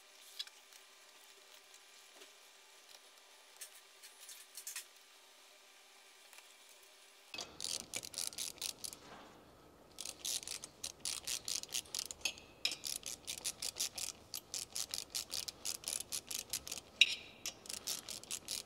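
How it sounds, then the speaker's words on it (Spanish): A torque wrench ratchets repeatedly while tightening parts on a Vespa Polini 221 engine: after a quiet stretch with faint clicks, rapid close clicking bursts in quick, steady strokes with short pauses between them. "Y ahora llave dinamométrica."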